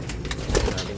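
Racing pigeons in a Morong, Rizal loft give a brief soft coo close by, with faint wing and background rustle around it.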